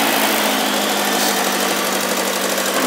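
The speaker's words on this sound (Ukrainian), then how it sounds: "Двигун стабільно працює, все нормально." Moskvich 407/403 car engine fitted to a tractor and running on wood gas from a gasifier, a loud, steady, even idle with a rough knocking texture, heard close and alone.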